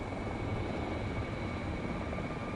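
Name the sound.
helicopter flying nearby in a flight simulator video game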